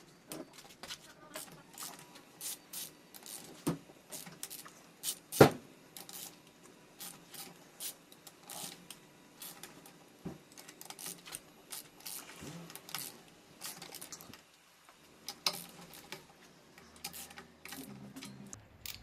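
Bolts on the rod caps of a Honda B18C engine's bottom end being cracked loose with a ratchet, giving a run of quick clicking and rattling bursts with one sharp metallic crack partway through, close and fairly quiet.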